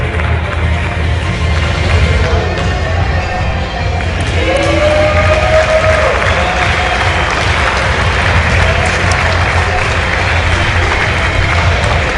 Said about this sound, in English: fans with another nice round of applause for your winner, Low-Ki.